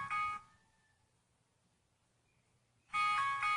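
A smartwatch alarm tone plays from a volume settings menu: two short bursts of bright, layered electronic chimes separated by near silence, fairly close and alone.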